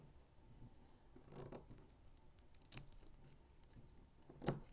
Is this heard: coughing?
no